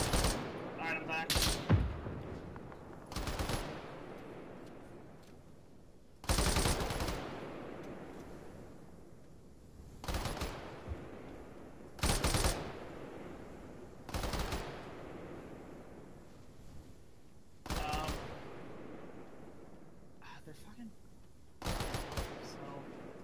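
Machine gun fire in the tactical shooter ARMA 3 comes as short sharp bursts, about eight of them spaced several seconds apart, each loud and cracking against a quiet background.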